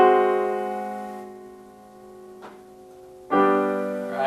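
A sustained augmented sixth chord rings out and fades, a brief soft tap, then a fresh chord is struck loudly with no talking.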